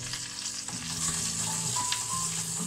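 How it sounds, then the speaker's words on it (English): Chicken thighs fry in butter in a pan with a loud, continuous sizzle and crackle, steady from start to end with no talking. "there's a lot of butter in this, right? We're frying it in a pan."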